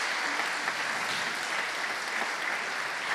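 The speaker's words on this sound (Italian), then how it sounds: "un piccolo applauso ad Andrea ed Eleonora" Audience applause at a science festival ceremony, a steady, dense clapping that fills the whole stretch without a break, moderately loud and evenly sustained with no voices over it.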